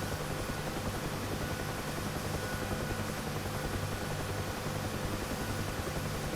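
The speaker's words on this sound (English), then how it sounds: "we are light on the skis and the helicopter is hovering" UH-1H Huey helicopter lifting into a hover in DCS, a constant loud rotor and turbine roar with steady rhythmic blade thumping, close and unbroken, with no one speaking.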